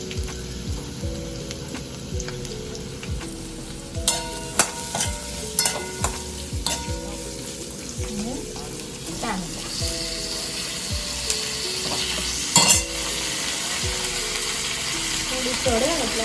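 Medium-size chopped onion frying in hot oil for a chickpea chole curry, a steady close sizzle with repeated spoon scrapes and stirring clicks throughout, no talk.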